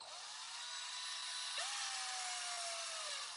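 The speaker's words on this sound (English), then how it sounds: "I'm gonna use a drill." A power drill serves as a screwdriver while assembling a Prusa Core One+ 3D printer, giving a steady high whine that briefly stops and restarts midway, close and fairly loud, with no talking.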